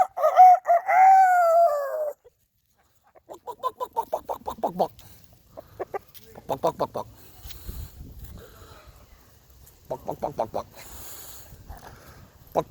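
A rooster and hens in a backyard flock: one loud, close rooster crow opens, followed by bursts of clucking and squawking from several chickens, with a person talking intermittently in between.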